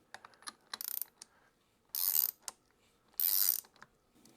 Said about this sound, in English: Now I'm ready to run the nut in the rest of the way.